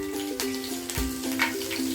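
Mustard seeds and chopped green chillies fry in hot oil for Gujarati khaman dhokla, a continuous close sizzle with light crackles and a soft tonal hum underneath, no talking.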